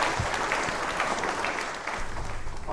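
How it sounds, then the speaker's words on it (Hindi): An audience at a legal quiz show gathering applauds steadily and fairly loudly, a dense wash of many hands clapping at once. "तालियां एक बार बजाएं आप डायरेक्ट साहब को।"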